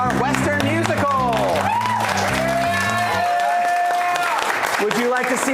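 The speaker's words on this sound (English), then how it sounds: "Just a little bass round of applause." Audience applause and cheering at an improv comedy show, a dense clap and whoop bed under a loud host's voice and music-like tones, sustained throughout.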